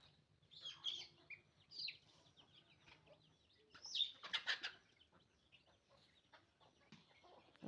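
Roosters being fed near a clay stove give scattered clucks and short calls, with wing flaps and pecking scuffles in a quiet outdoor setting.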